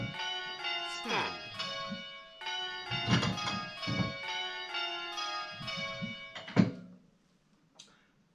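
Church bells ring in a steady sequence of overlapping, sustained strikes from a bell-ringing simulator, each tone decaying into the next before fading out to near silence with one final faint strike.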